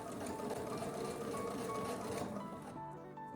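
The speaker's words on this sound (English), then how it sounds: "I butt this fabric up to the edge of the needle and start stitching" Sewing machine stitching quilt fabric for a partial seam, a steady close mechanical whir with fine rapid needle rhythm that runs evenly for a few seconds, then stops abruptly, leaving a quiet hum.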